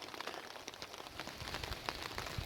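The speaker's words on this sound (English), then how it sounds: "This is how much it's raining right now." Heavy rain falls steadily outdoors, a dense, continuous hiss of drops pattering on surfaces with scattered louder splats, close and alone, with no voices.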